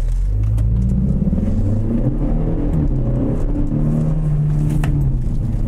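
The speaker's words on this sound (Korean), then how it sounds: "다음 차량 출발." A Hyundai K3 GT pulls away on a race track, its engine rumbling close and loud, rising in pitch as it revs up and shifts. The drone is sustained and steady, with no talk over it.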